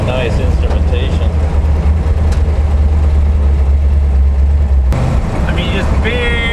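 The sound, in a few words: twin-turbo big block 1969 Chevelle engine idling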